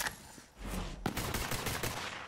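Gunfire in the shooter game Borderlands 3 as bandits are fought: a quiet lead-in, then a loud rapid burst of shots that runs on steadily for the rest of the moment.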